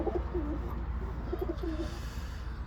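Tumbler pigeons coo softly in short repeated phrases over a steady low hum, with no voices present.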